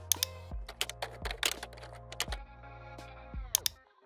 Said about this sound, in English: You'll notice, as you start typing a comment or reply, you'll get these formatting options here.